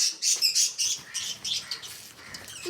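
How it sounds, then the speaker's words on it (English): Pet parakeets at close range give a quick run of bright chirps and tweets mixed with short fluttering bursts of wing flaps, busy and fairly loud, with no voices. "Some birds. Or you can call them parrots, parakeets, and they have laid eggs."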